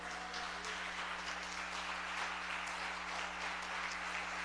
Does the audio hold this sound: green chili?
no